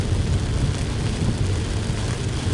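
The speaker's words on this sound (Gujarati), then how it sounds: "વરસાદ સરસ ફાસ્ટમાં ચાલુ થઈ ગયો છે." Heavy downpour on the Kosindra–Bodeli road on a Tuesday afternoon, a loud, steady wash of rain with a deep rumbling roar underneath, continuous and close throughout, with no voices.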